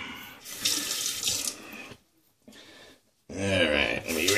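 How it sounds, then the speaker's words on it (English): Tap water runs into a bathroom sink for a rinse after a shave, a steady close splashing that stops briefly and then resumes louder. "let me rinse off quick"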